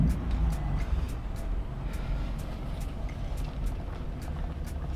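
A 700 hp straight-piped BMW M4 driving in quiet mode, giving a steady low engine and road rumble with faint repeated ticking, fairly loud and continuous, no talking.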